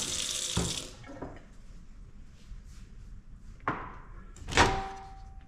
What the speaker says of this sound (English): And then I add some water.